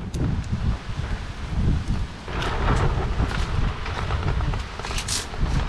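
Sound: rain and thunder arriving in a forest

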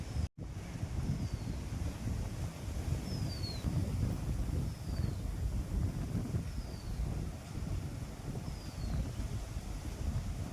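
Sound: wind blowing

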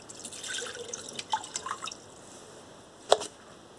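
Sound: water being poured into a cooking pot

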